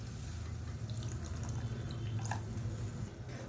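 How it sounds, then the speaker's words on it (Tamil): Water is poured into a pan of sambar, giving a quiet, close trickling and dripping with low watery gurgles that run steadily for a few seconds without talk. "இப்போ இன்னும் கொஞ்சம் தண்ணி சேர்த்துக்கலாம்."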